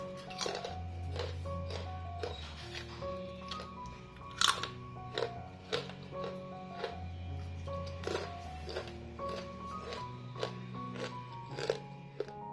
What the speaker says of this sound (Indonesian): Keripiknya ini kriuk dan crispy banget.